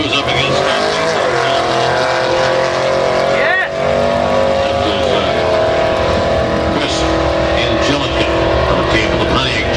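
A supercharged 2005 Roush 4.6 liter Mustang drag racing a supercharged GTO at a drag strip: loud engines rev and roar with a brief dip and a sweeping pass, while an announcer talks over the noise.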